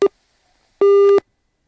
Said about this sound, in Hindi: शायद फोन काट दिया या फिर डिस्कनेक्ट हो गए हैं